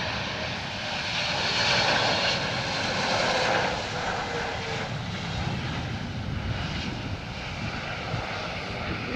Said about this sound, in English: A little bit of wind just as they're touching down there.